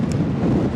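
Strong wind gusting across a microphone on a snowy New York City street, a loud, steady rumbling buffet with no voices.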